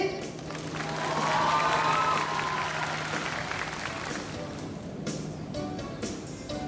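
Audience at a sea lion show at a marine park clapping and cheering, a broad crowd roar swelling then easing, with a voice briefly over it.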